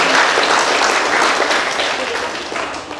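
Loud, dense applause from a gathered audience at a school function for students with special needs, honouring the institution's office bearers; a thick wash of many hands clapping continuously, tapering slightly toward the end.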